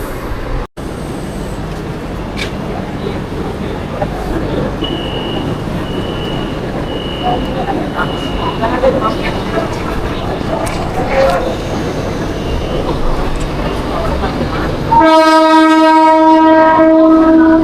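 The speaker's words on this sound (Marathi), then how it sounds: "तर आता आपण ट्रेन मध्ये बसलेलो आहे" Inside a moving train, a constant rumble and rattle of wheels fills the space, with some faint talk, ending in a loud, sustained horn blast.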